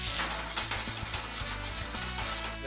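Fried crispy corn tossed with chili flakes, chaat masala, black and white pepper and salt in a pan gives a steady, close scraping and rustling with a soft sizzle, continuous throughout with no talk.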